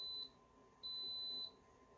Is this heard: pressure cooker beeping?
yes